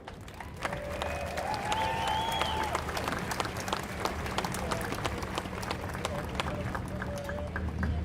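Sustained audience applause in an outdoor Fourth of July ceremony crowd, welcoming the Old Guard Fife and Drum Corps; steady dense clapping with faint crowd murmur throughout, fairly distant.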